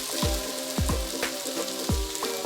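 Jackfruit pieces for Kerala-style payasam sizzle and fry in a pan, a steady crackle broken by repeated scraping stirs of a spoon, close up with no talking.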